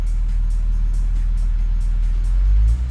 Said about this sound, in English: We noticed RPMs have picked up a tad bit from the initial startup, and it's definitely got a different sound.